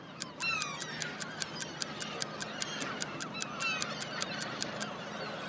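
A seagull gives a string of harsh, honking cries that repeat in quick succession for several seconds, close and fairly clear over a faint outdoor background with no talking.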